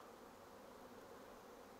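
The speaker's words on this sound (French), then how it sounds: "Et on entend limite bourdonner là-haut," Honeybees buzz near their hives as a faint, steady, continuous drone with no voices over it.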